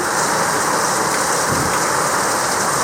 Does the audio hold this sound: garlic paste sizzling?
no